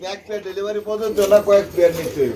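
Pigeons at a bird sale cooing softly in the background while someone talks over them, the birds faint and mostly masked by the voice.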